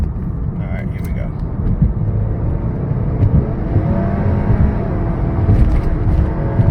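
A 2018 Honda Accord 2.0T fitted with a K&N intake accelerates hard with traction control off, its engine droning loud and steady throughout under road and cabin noise, with a voice in the car at points.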